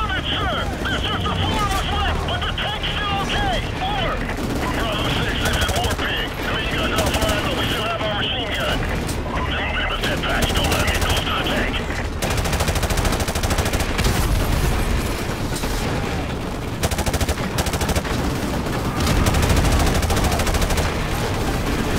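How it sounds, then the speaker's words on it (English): Dense, continuous gunfire from a battle in the PC game Call of Duty: Modern Warfare Remastered, with sustained bursts and rattling shots mixed with explosions and game voices throughout. "that is a lot of gunfire"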